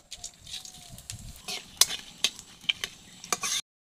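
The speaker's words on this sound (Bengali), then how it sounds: "তো চলো এবার কড়াইতে তেল দিয়ে দিই। দিয়ে দিচ্ছি একটা তেজপাতা, শুকনো লঙ্কা," Bay leaf, dried red chilli and five-spice seeds sizzling in hot oil in a kadai, a steady close crackle with sharp pops and spits scattered through it, no voices.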